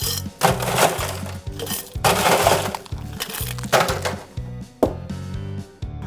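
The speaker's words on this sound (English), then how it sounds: "Grab our vintage chimney glass and fill it full of ice." Ice cubes tumbling into a vintage chimney glass for a Zombie cocktail, in bursts of bright clattering and clinking over a low droning hum, close and fairly loud.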